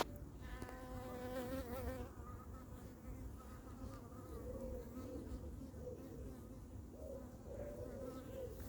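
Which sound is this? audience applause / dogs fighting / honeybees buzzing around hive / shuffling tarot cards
honeybees buzzing around hive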